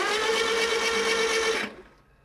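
An engine being cranked over for the first time after more than a year in storage, its starter giving a loud, steady mechanical whir for under two seconds before cutting off abruptly.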